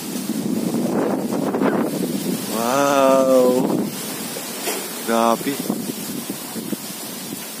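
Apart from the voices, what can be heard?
wind blowing at a farm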